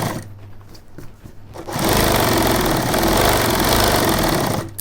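A sewing machine stitches a shirt collar, starting after a quieter stretch of soft handling noise, then running loud and close with a steady rapid clatter for about three seconds before stopping.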